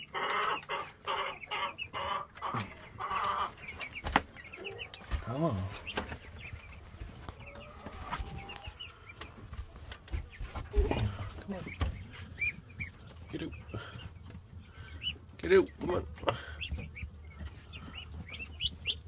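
Meat chickens and meat ducks, about 65 birds crowded together in one pen, keep up a continuous close chorus of clucks and chirps with irregular louder calls.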